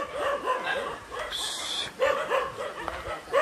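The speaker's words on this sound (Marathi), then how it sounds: "जामू कुत्रे आहेत रे इकडं." Several dogs bark and yip repeatedly near a waterfall, close and fairly loud, in quick overlapping bursts with whimpers between them.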